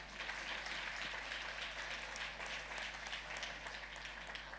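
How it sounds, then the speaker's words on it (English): A symposium audience applauds social enterprise presenters, a soft, steady, distant patter of clapping with a low constant hum underneath, holding even throughout without voices. "So let us just give them a round of applause."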